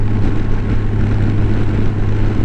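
Honda Goldwing motorcycle cruising on an open road under cruise control, a steady loud engine drone blended with rushing wind noise, continuous and unchanging throughout.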